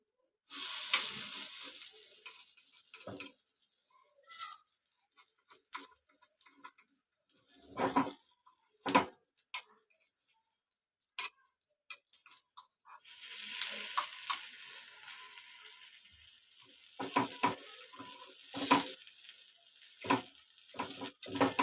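Jowar appe frying in an appe pan, a faint hiss of sizzling oil with sporadic close taps and clatters from turning them, quiet between bursts and no one talking.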